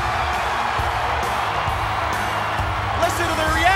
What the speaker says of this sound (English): Listen to the reaction from this crowd.